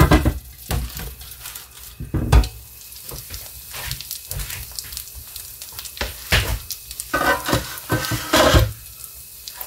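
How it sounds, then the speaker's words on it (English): Quesadilla of tortillas and cheese frying in a pan, a steady close sizzle broken by clinks and scrapes of a utensil against the pan. "The tortillas are browning, but some of the cheese inside needs to melt."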